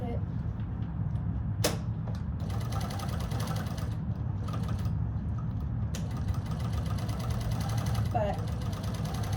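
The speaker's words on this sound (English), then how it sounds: "as you're sewing, make sure you keep an even tempo so that the stitches all stay the same" Sewing machine stitching felt for small hats, running a steady mechanical whir with sharp clicks and pauses as it pivots at corners, sounding close.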